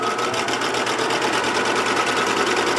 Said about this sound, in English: I'm just machining using that edge as a guide again.